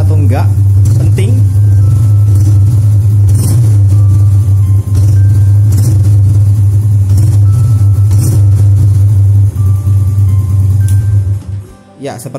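A Yamaha Jupiter Z1 motorcycle engine runs loud and close, with the throttle blipped repeatedly so the revs rise and fall over a steady low rumble before it drops off at the end.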